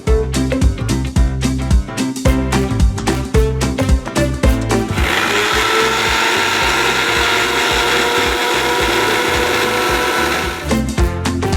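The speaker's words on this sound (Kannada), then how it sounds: "ಈಗ ಸ್ವಲ್ಪ ನಾನು ನೀರನ್ನು ಹಾಕಿ ಮಿಕ್ಸಿ ಮಾಡ್ಕೊಳ್ತಾ ಇದ್ದೀನಿ ಒಂದು ಜ್ಯೂಸ್ನ ರೀತಿ ಮಿಕ್ಸಿ ಮಾಡ್ಕೊಳ್ತಾ ಇದ್ದೀನಿ" A kitchen mixer grinder blends ingredients with water into a juice, running loud and close in pulsed bursts, then a long steady whirring stretch, then pulsing again before it stops. No one speaks.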